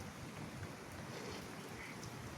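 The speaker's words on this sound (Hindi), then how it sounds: "अब थोड़ी कम हो गया बारिश और हवा तो वही चल रही है," Steady rain falling over a village and fields with wind blowing, a soft, even hiss of drops and gusts, fairly quiet and continuous throughout with no voices.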